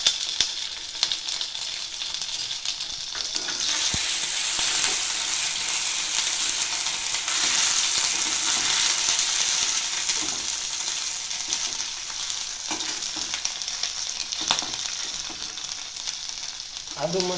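Crushed ginger and green chilies sizzle with cumin seeds in hot oil, a steady close frying hiss that swells in the middle and carries on throughout, with occasional stirring clinks and no talking.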